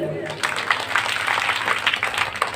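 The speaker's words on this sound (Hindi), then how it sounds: "ताली बजा" An audience at a Hindu Bhagavat religious discourse claps steadily throughout, a dense patter of hands with a voice faintly underneath.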